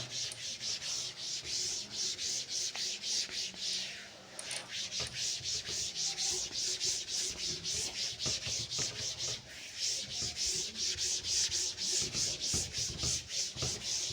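Steady back-and-forth rubbing of an eraser or duster wiping writing off a board, a continuous scratchy swishing with rhythmic strokes and one brief pause, close and fairly loud with no talking.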